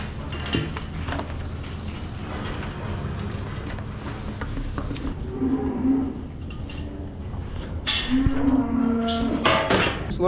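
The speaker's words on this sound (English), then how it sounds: "Just loaded up 9 heifers." Several five- to six-month-old heifers moo loudly and repeatedly after being loaded onto a trailer, their calls rising over a steady rumbling background with clanking metal.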